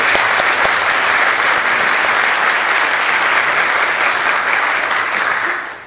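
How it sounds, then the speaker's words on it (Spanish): An audience at a Peruvian song and dance show applauds, dense, loud clapping from a large crowd sustained for several seconds before starting to fade at the end. "Asimismo, un aplauso por favor para Gabriela."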